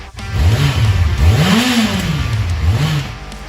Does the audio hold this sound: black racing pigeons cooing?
no